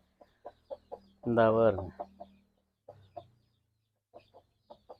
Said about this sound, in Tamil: இந்த இப்போ ஒரு கோழி இருக்குங்களா